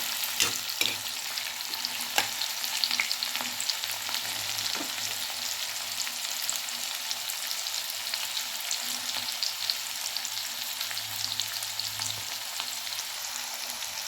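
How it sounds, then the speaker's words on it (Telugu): Onions and green chillies frying in a pan for an Andhra gongura dried-prawn curry, an even, crackling sizzle throughout with occasional light spoon clicks and stirring, close and alone. "ఆనియన్స్ పచ్చిమిర్చి వేసి వేయించుకోవాలండి ఇవి బాగా ఫ్రై చేసుకోవాలి గోల్డెన్ కలర్ వచ్చే వరకు"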